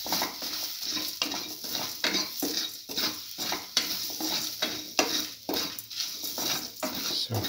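Ginger, tamarind and salt sauté in a pan, with a spatula scraping and clinking against the metal in a regular rhythm over a soft sizzle, close by.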